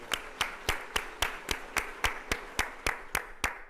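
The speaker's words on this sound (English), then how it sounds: "Let's give all of our winners a big round of applause at this time" Rhythmic clapping at an evening school fundraiser gala honoring winners, about thirteen sharp, evenly spaced claps from a single nearby pair of hands, moderately loud with no voices.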